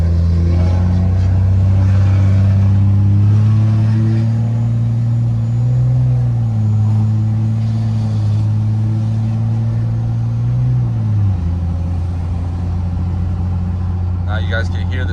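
A 4th gen truck swapped to a Cummins 2G engine drones with a raspy, steady low tone while driving, its pitch shifting slightly and dropping near the end. Someone talks over the engine.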